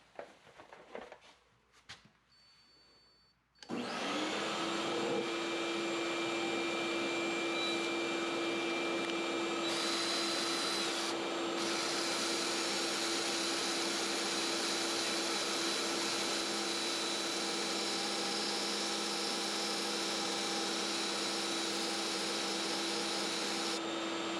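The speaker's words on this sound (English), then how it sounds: "So I've hooked it up to a wet dry vac, which is really loud." A wet/dry shop vacuum hooked to a woodturning setup switches on abruptly after a few quiet seconds and roars loudly and steadily with a constant whine, running without a break.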